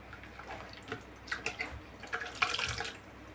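Amaranth leaves being washed in a bowl of water, soft faint splashes and sloshing in irregular bursts, heard up close.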